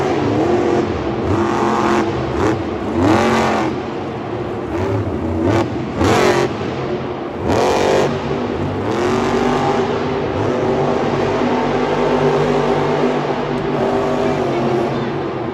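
Monster Jam monster truck engine at a stadium show in Houston, roaring and revving steadily as the truck launches, loud and continuous over crowd noise for the whole stretch.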